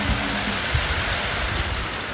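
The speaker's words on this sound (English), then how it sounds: "It's absolutely raining out here at the moment." Steady rain falling outdoors on safari, an even broadband hiss with no pauses, fairly loud and close, with no voices or other sounds.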